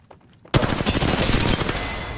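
Automatic weapon fire in Apex Legends erupts after a half-second of near silence, a rapid sustained burst of gunshots that stays loud and dense before tapering slightly, with no talking.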